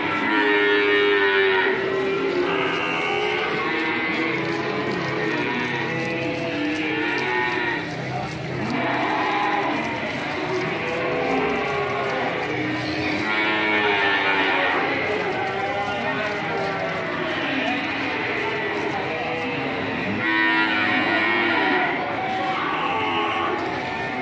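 Feeder cattle on a farm in Indonesia low and moo repeatedly, many overlapping calls from several animals filling the scene loudly and continuously, with people's voices mixed among them.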